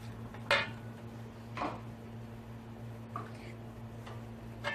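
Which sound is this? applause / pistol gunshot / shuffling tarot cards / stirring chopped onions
stirring chopped onions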